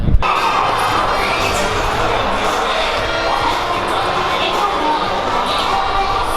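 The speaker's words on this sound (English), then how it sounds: "the away crowd has not given up hope. They are still cheering just as hard as when the game first started" The away crowd at a Japanese baseball game in Tokyo, Swallows versus Dragons, keeps up loud, sustained cheering and chanting throughout, a dense wall of voices from a large stadium audience.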